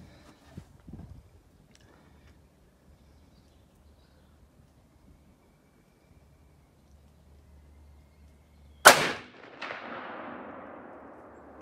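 A rifle shot at a tannerite target 200 yards away cracks loudly and suddenly after a long quiet stretch. A second boom follows a moment later, and its rumble trails off slowly.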